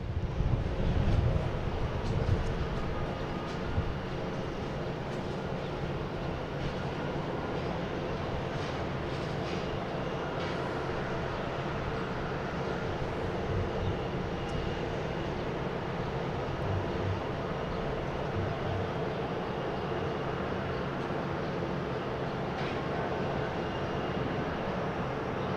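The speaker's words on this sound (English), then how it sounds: "got the Astrojet finally taken off" An American Airlines Boeing 737-800 in Astrojet livery takes off from Boston Logan, its jet engines a broad, steady distant roar with wind buffeting the microphone throughout.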